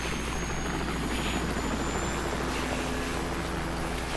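A helicopter in Metal Gear Solid: Ground Zeroes gives off a constant, dense rotor-and-engine roar that stays loud and steady from start to end, with no voices over it.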